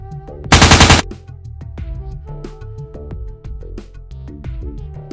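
Auto pistol gunfire sound effect in a Necromunda tabletop battle: one loud, dense burst of rapid shots lasting about half a second, followed by quieter background music.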